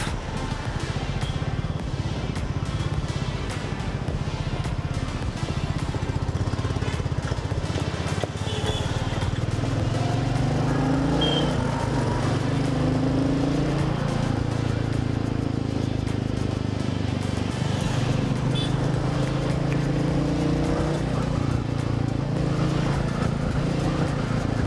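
A Royal Enfield Meteor motorcycle rides slowly along a street in Bangalore, its engine a low, continuous rumble under steady road and wind noise, with no clear talking.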